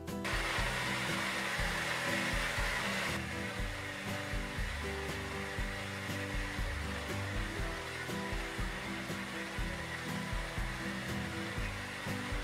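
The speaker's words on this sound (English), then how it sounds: "go ahead and do the crazy hair dry when your hair is just flying around everywhere" A hair dryer runs continuously at close range, a steady loud roar with a slight shift in tone partway through, blow-drying hair at home with no voices.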